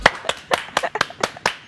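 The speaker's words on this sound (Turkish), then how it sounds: "Buyursunlar alkışlarla." A few separate, sharp hand claps in a steady rhythm, close and fairly loud, as a Turkish TV talk show studio audience welcomes a guest; no talking.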